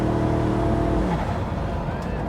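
The twin-turbocharged V8 of a 1500 bhp Koenigsegg Regera hybrid hypercar roars loud and close under hard acceleration, its engine note rising briefly and then fading.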